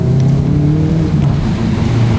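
A Hyundai car engine heard from inside during a rev-matched downshift, a loud, close drone with its pitch rising then easing back, with no speech over it.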